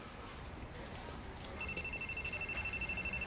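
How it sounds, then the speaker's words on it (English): A cell phone rings indoors at a bank office, a steady high electronic tone starting partway through and pulsing in a quick repeating rhythm over low room noise. "Your cell phone, it's ringing."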